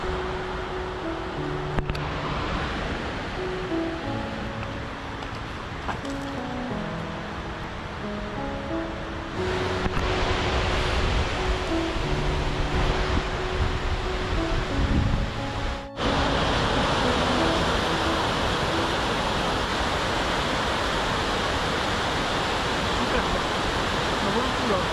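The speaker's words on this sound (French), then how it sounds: "Petit visuel sur la cascade d'Ars avec le soleil et le vent." A continuous roar of the Cascade d'Ars waterfall in the Pyrenees, in strong flow and wind, fills the scene, loud and close, with faint tonal sounds over it and a brief gust-like break partway through.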